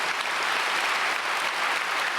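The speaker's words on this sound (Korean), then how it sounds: "다시 박수 한번 하겠습니다" Church congregation applauding together during a special early-morning worship gathering, a dense steady roar of many hands clapping throughout, loud and continuous with no break.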